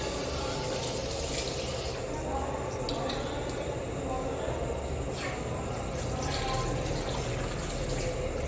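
Running tap water splashing while a face is washed in a skincare routine, a steady close wash of water with wet squishing and dripping, and a voice talking over parts of it.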